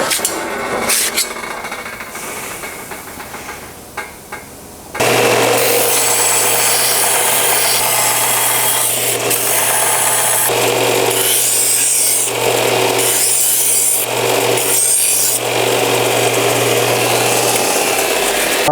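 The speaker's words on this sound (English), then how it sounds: "Let's cut all this excess off the outside." Excess metal is cut away from around a hammer form in a shop, a loud, continuous power-cutting roar with a steady hum that runs unbroken for most of the stretch after a brief quieter rasping start.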